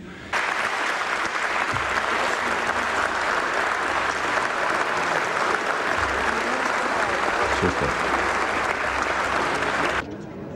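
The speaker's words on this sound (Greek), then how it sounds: "Οι βουλευτές της συμπολίτευσης χειροκροτούν και δίνουν συγχαρητήρια στον Πρωθυπουργό." Members of the Greek parliament applaud the Prime Minister in the chamber, a dense, steady wall of clapping that runs loud and unbroken for about ten seconds before cutting off.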